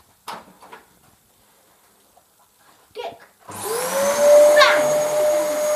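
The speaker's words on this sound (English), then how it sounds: "do you want to hoover that up quickly?" A Dyson DC14 vacuum cleaner switches on after a few brief knocks and bits of speech. It whines loudly at close range with a rising high-pitched tone and squeal, and keeps running to the end.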